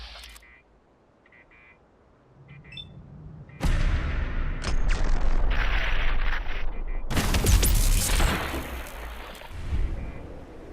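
A BFG weapon from a Doom mod fires on raiders in Fallout 4, with a quiet lead-in before sudden loud blasts, a sustained roaring discharge and a second powerful burst, close and dominant over little else.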